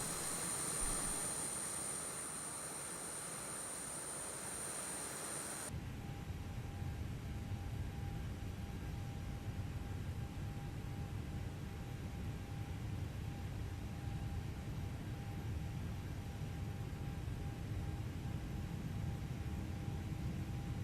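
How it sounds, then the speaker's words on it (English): A Toliss A319 airliner jet engine spools up in X-Plane 11, a steady roaring whine heard from outside the aircraft that swells abruptly louder after a few seconds and then holds constant. "I'll turn the sounds up just for the engine start."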